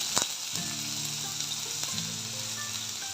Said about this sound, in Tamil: ரெண்டு ஸ்பூன் ஆயில் விட்டு வெங்காயம் பச்சை மிளகாய் காரத்துக்கு எவ்வளோ தேவையோ எல்லாம் வதக்கி எடுத்துக்கலாம்